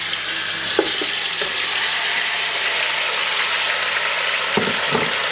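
Marinated chicken frying in hot oil for a koyla chicken karahi, giving a steady loud sizzle throughout with a few soft clinks of a utensil in the pan.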